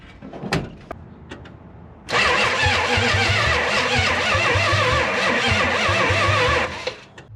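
After a few clicks and knocks, the starter of a Chrysler Newport with a 440 big block engine cranks loudly and steadily for several seconds without the engine catching, then stops.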